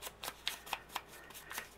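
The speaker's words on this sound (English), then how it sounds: "crinkly paper." Crinkly paper handled during a crafting session for a butterfly envelope and journal set: a quick series of soft, bright crackles and rustles, about seven short bursts over two seconds, close and faint with no talking.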